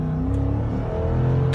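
A 2005 Lexus GX470 SUV pulls away on the road, its engine note rising in a steady, close, continuous drone with no voices over it.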